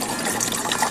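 Water pours into a titanium camp pot at a snowy winter bushcraft camp, a brief, close, bubbling gush of filling liquid lasting about a second.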